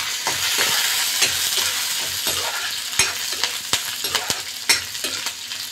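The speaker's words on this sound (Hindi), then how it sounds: "जीरा सुनहरे होने के बाद चॉप किए हुए लहसुन, मिर्च डाल के इनको भी सुनहरा होने दें।" Chopped garlic and green chilies fry in hot oil with cumin for a besan kadhi, giving a loud, steady sizzle with occasional sharp pops and scrapes of a spoon stirring the pan, close up and without voices.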